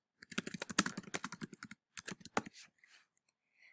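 Keys clack on a computer keyboard while new text is typed into a text box, a quick run of close taps, a short pause, then a few more strokes trailing off.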